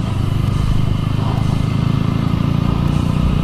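Bajaj V15 motorcycle running steadily at moderate road speed during a mileage test ride, a continuous close engine drone with low rumble and wind, loud and unbroken throughout.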